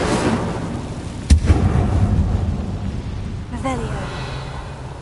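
Incendio fire spell cast in Hogwarts Legacy: a sharp burst followed by a roaring, crackling whoosh that fades, then a brief whooshing sweep near the end, loud and close.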